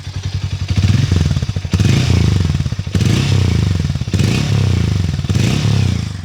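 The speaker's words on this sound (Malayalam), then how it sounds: "ഞാനിതിൻ്റെ എക്സോസ്റ്റ് നോട്ട് ഒന്ന് കേൾപ്പിക്കാം." A Hero Mavrick 440 motorcycle's exhaust rumbles close and loud, its engine blipped in several repeated revs with a pulsing, throbbing idle between each rise.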